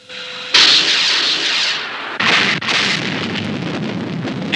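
Missiles fire from a craft in a puppet science-fiction TV show, a loud sustained roaring rush that erupts suddenly and then swells again with a second blast, filling the whole clip without talk.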